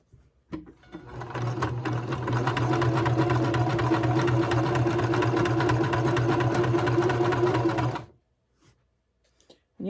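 A sewing machine stitches a log cabin quilt in one continuous run of about seven seconds, a close, even mechanical whir that then stops, leaving near silence.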